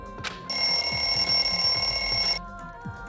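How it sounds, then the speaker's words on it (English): A wall clock alarm in the video game Danganronpa 2 rings as a steady, bright electronic tone for about two seconds, then cuts off, leaving soft background game ambience with no voices. "The lounge's wall clock alarm started ringing at 5:30."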